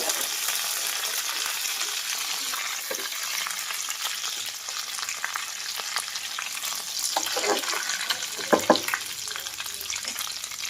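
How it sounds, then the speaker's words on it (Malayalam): Curry leaves sizzle in hot sesame oil with ginger and garlic for a mango pickle, giving a loud, steady frying hiss close up, broken by occasional scrapes and clinks of stirring in the pan. "നമ്മൾ കുറച്ച് കറിവേപ്പില കൂടി അങ്ങോട്ട് ഇട്ട് കൊടുത്തു"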